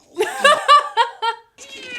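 Meowing from a cat puppet in A Muppet Christmas Carol, a short run of four or five nasal, voiced mews in quick succession followed by a brief higher cry, close and clear.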